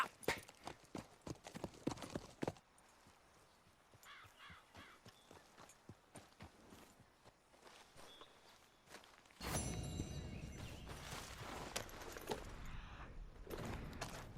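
Horse hooves clip-clop in a steady walking rhythm while riding in Red Dead Redemption 2, close and distinct at first, then blurred beneath a louder wash of wind or galloping noise in the later part.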